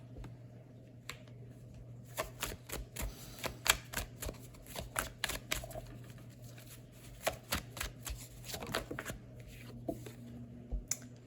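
Tarot cards are shuffled and laid down in quick, crisp riffles and light slaps, close and fairly quiet over a steady low hum, with no talking.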